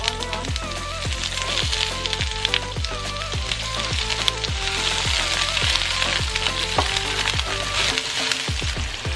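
Onion frying in a hot pan for a crispy chili beef dish, a loud, continuous close-up sizzle with crackling spatter and a steady rhythmic tapping of stirring throughout.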